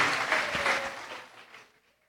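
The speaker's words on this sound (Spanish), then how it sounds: "le damos un hermoso, fuerte aplauso a nuestro Dios" Applause from a church congregation at a Sunday service, fairly full at first and then tapering off quickly into near silence within about two seconds.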